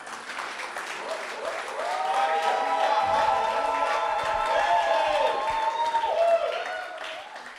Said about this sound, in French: Est-ce qu'on peut royalement applaudir le roi de rois?